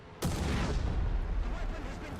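Strafing gunfire from an aircraft in the War Thunder tank battle, a sudden loud burst of heavy firing that starts abruptly and keeps up as a dense, rumbling barrage of shots and impacts.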